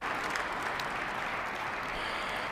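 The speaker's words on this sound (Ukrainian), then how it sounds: "майже уся зала почала аплодувати" A hall audience applauding during a speech by Vladimir Putin, a steady dense wash of clapping from many hands that holds at an even level throughout, with no voices standing out.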